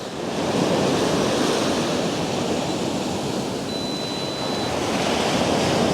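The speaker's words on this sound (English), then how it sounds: "we're just going to wait for the waves to come in" Ocean surf rolling steadily onto the shore and drawing back, a continuous broad wash of waves with wind noise on the microphone and no talking.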